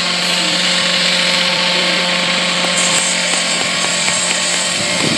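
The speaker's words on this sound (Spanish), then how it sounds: "Están cortando allá." A power tool cuts at a construction site where cement workers are laying and leveling a floor, giving a steady, loud, continuous grinding whine with no break and no talking.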